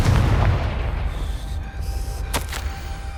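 A Confringo fire spell from the PS5 game Hogwarts Legacy erupts in a heavy, booming explosion that opens loud and rumbles away over a few seconds, with a brief crackle partway through.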